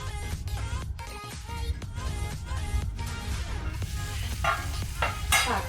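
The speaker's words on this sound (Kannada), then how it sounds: "ಲೋ ಟು ಮೀಡಿಯಂ ಫ್ಲೇಮಲ್ಲಿ ಇದು ಸ್ವಲ್ಪ ಬೇಯಲಿ, ಮಸಾಲೆ ಎಳ್ಕೊಳ್ಬೇಕು" A chicken gizzard and sausage masala cooks in a pan on low-medium flame, a close sizzle with spoon stirring and scraping that comes and goes through the clip.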